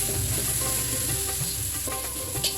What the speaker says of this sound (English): after frying these chilies and ginger mixture for about 10 seconds